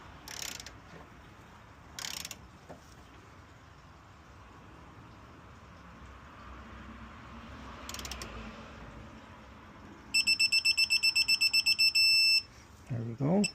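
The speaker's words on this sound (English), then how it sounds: "Now we're going to torque it down to 47 foot-pounds." A torque wrench tightens a front motor mount bolt to 47 foot-pounds on a 2017 Honda Accord Sport, with faint ratcheting followed by a sharp, steady electronic beeping for about two seconds.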